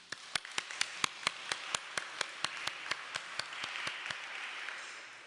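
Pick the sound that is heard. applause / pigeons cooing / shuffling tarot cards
applause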